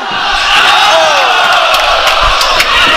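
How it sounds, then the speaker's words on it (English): A wrestling arena crowd eggs on a wrestler during a tag team match, a loud sustained roar of cheering and shouting with a few sharp thuds and slams cutting through. "The crowd egging Andros for one more time."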